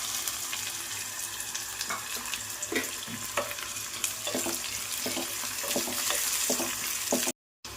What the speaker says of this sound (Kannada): ಡೈರೆಕ್ಟ್ ಎಣ್ಣೆ ಕಾದಿದ ತಕ್ಷಣ ನಾವು ಆನಿಯನ್ ಫ್ರೈ ಮಾಡೋಕ್ಕೆ ಹಾಕೋಬಿಡೋಣ